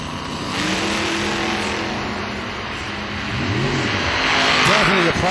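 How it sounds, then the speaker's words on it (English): A race car engine on a shootout race broadcast sputters and revs in uneven bursts, harmonics rising and falling against loud crowd and track noise, with a commentator talking over it. "Having problems getting the car going."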